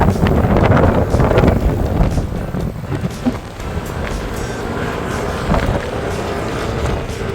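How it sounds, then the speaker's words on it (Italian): Strong wind roars and buffets the microphone continuously while cycling, a loud rumbling gust noise with faint background traffic. "C'è un vento incredibile."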